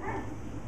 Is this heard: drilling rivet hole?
no